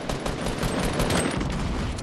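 Rapid bursts of automatic gunfire in the video game Fortnite on PS4 rattle on continuously, loud and dense, with overlapping shots and no voice over them.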